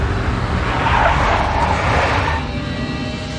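A big black Mercedes in the Max Payne video game, a loud sustained engine roar with a squealing tire skid that fades into a lower rumble near the end.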